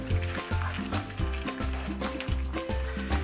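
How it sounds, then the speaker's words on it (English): A spoon stirs chicken soup in a pot, making soft, continuous liquid sloshing and swirling sounds over faint background music. "Give it a good stir."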